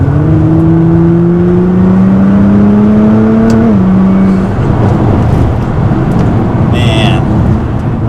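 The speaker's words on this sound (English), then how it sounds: "The exhaust sounds so good on this car." A Nissan GT-R's exhaust drones and rises in pitch as it accelerates, then shifts down, heard from inside the car with steady road noise throughout.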